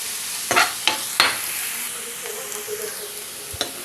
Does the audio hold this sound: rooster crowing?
no